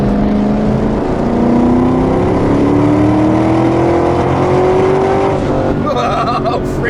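A 2002 Pontiac Firebird Trans Am with a 6-speed manual accelerating hard and winding out second gear, a loud, rising engine roar heard from inside that climbs steadily in pitch before easing off near the end.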